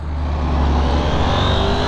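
Loud, close engine roar of a KTM Duke 890R motorcycle accelerating hard on a cold morning, its rear tire spinning, a steady revving drone filling the whole stretch without speech.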